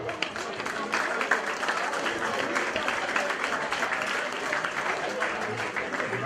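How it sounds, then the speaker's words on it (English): A crowd applauds the women drivers at the awards ceremony of a Belgian national championship race final, with continuous, dense clapping filling the whole stretch and a voice faintly mixed in. "Give the ladies a great applause,"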